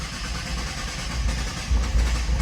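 A brand-new Nissan GT-R running just after startup, a steady low engine rumble that swells slightly near the end, close by with no talk.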